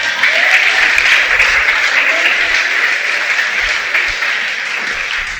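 A church congregation gives a loud, sustained round of applause, dense overlapping claps close by that start at full strength and taper only slightly toward the end.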